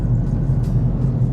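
Low, steady engine rumble from a Mk7 Ford Fiesta ST being driven, heard from inside the car, brief and even with no talk.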